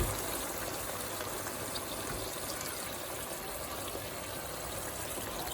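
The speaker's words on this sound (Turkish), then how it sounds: "Şimdi suyunu döküyorum." Water poured into a pan of sautéed okra and meat on a stove, a continuous close gushing stream that runs steadily throughout without pause.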